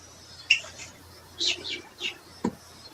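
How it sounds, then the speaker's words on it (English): Birds chirp outdoors near a house: several short, bright calls come in separate bursts, moderately close, over a quiet background, with a brief click near the end. "There's birds outside her house."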